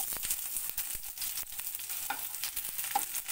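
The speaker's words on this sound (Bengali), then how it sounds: "এবার একটা গোটা পেঁয়াজ কুচিয়ে নিয়েছি, সেই পেঁয়াজটা আমি এখানে দিয়ে দিচ্ছি।" Finely chopped onion sizzles in hot oil over fried whole spices for a dried koi fish curry, a steady bright crackle with occasional scrapes of stirring.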